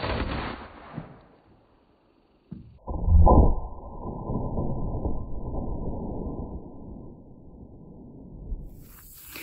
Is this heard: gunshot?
yes